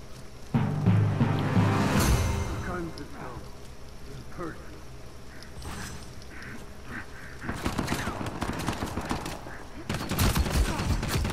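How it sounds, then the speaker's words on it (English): Rapid bursts of P90 submachine gun fire in Uncharted 4 combat, sprayed blind from cover, crackling amid loud game noise with a player talking over the clatter. "blind fire with a P90"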